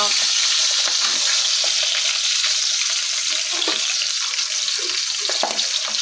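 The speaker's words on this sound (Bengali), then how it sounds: "গরম কাটাকোনা মাছ কে খাবে তো চলে এসো ভাজা" Steady, loud sizzling of katakona fish frying in hot oil, a continuous crackling hiss with occasional sharper pops and no talking.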